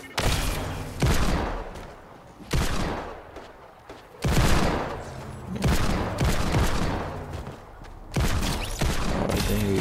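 Desert Eagle pistol fire in a first-person shooter game, a string of loud, sharp booming shots spaced every second or two across the stretch, with no talk over them.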